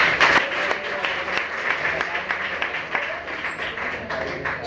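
An audience at a school event in Mumbai claps loudly for a child, a dense, sustained round of applause with scattered sharp claps. It continues steadily throughout with voices faintly mixed in.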